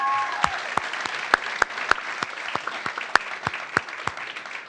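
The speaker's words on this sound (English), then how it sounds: "So another round of applause for Stephanie." Applause at a school board meeting for a high school athlete: a small group claps, with individual sharp claps standing out in an uneven rhythm, steady for a few seconds at moderate distance.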